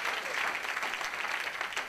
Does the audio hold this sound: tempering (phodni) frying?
no